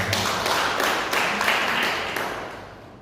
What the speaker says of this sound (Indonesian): Kita punya tepuk tangan lagi buat Tuhan